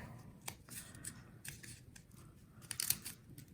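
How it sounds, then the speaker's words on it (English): Scissors cut paper snowflake shapes, giving a close series of crisp, irregular snips and rustles with no talking. "let's cut out the shapes on the other side"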